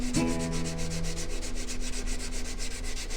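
A metal file scrapes along the bevel of a cheap Harbor Freight chisel in a steady run of quick, regular strokes, close and fairly quiet, with a brief ringing metallic tone at the start.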